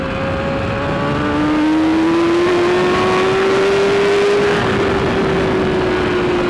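A 2015 BMW S1000RR motorcycle with a Hindle exhaust and a faulty quick shifter runs loud and near, its engine note rising steadily under constant wind roar.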